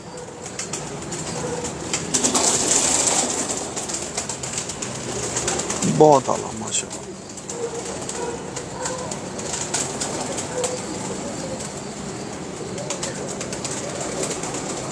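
Pigeons belonging to a pigeon keeper in Kasur cooing softly, with a brief burst of wing flapping midway, all under steady outdoor background noise and people talking.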